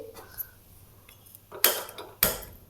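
A large cooking pot is set down on a gas stove with two sharp, close metallic clanks about half a second apart, after a few faint clinks in an otherwise quiet kitchen.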